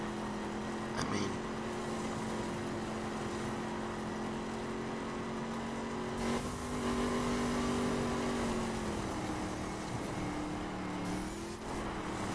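Steady engine drone of a car driven fast in a driving video game, a continuous hum with pitch shifting up and down as it speeds and shifts, with faint game effects over it.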